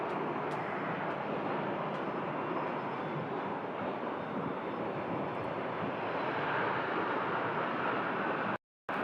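An American Airlines jet lands on runway 26, its engine roar loud, broad and steady for several seconds before cutting off abruptly near the end.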